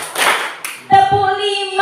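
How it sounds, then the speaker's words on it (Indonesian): A classroom of eighth-grade students claps together in a short burst of overlapping hand claps, followed by a teacher's voice speaking. "Tepuk empat."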